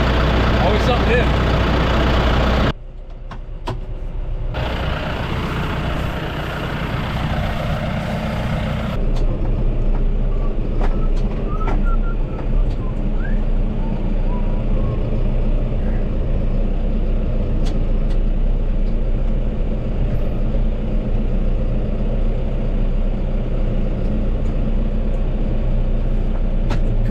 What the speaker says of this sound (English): The big tractor, the one we're in right now, I just filled it up with diesel.